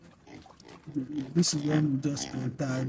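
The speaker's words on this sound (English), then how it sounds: "You can see how active the pigs are and everything. You can hear the noise, you can hear their noise and everything." Pigs on a pig farm grunt and oink in a rapid, busy stream at close range, mixing with a voice talking over the animals throughout.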